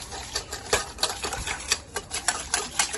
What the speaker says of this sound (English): And I'm gonna whisk this in, all these ingredients.